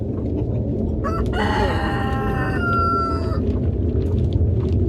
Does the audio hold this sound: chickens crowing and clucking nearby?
yes